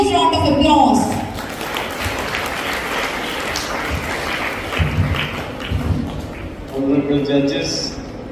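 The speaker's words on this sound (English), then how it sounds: "Let's welcome him with a huge round of applause." Applause from an audience with a voice speaking over it, the clapping fairly steady and moderately loud before fading as the talk continues.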